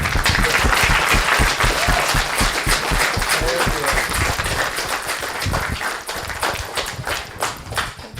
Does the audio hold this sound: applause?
yes